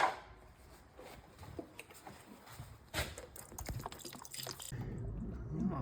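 Tap water running into the radiator of an FSO Polonez, faint irregular dripping and splashing that swells into a louder steady gurgle toward the end.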